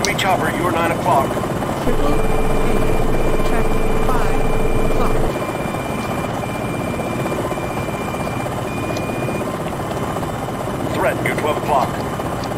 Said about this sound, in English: Enemy chopper, you're 9 o'clock.